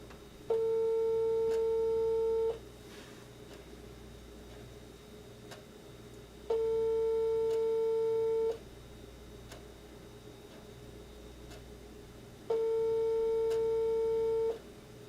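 Ringback tone on a call-in radio show's phone line, three steady two-second tone bursts evenly spaced, loud and clear over a low background hum, with no talking.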